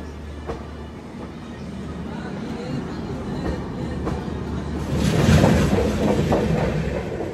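The Bhubaneswar–SMVT Bengaluru Humsafar Express rolls past at a station with a low rumble that builds into a louder, rushing clatter of wheels over rail joints.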